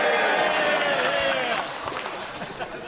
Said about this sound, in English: we shouldn't have clapping in the chamber